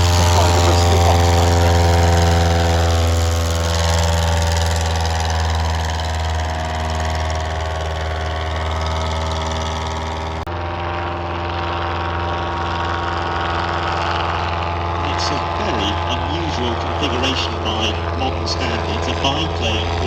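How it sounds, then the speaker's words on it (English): A pusher-engine aeroplane with a boom-mounted front elevator and twin horizontal stabilisers drones steadily at an air show at Old Warden, its engine a loud, continuous hum running the whole time with a slight shift midway. "aeroplane with a pusher engine"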